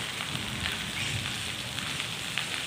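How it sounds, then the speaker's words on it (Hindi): Steady, dense rain hisses and patters continuously, a heavy downpour with scattered louder drops splashing close by. "बहुत तेज बारिश हो रही है"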